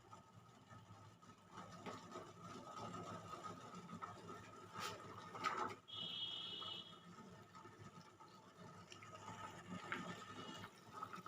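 Bread-based sweets simmering in sugar syrup in a pan over a medium gas flame, a steady low bubbling and hiss that runs evenly, with a brief faint clink partway through.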